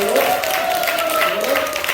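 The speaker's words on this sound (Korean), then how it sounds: "뜨겁게 박수 한번 쳐주시면" Audience applause at a church celebration service for an inauguration ceremony, steady clapping throughout with a voice or tonal sound carrying over it.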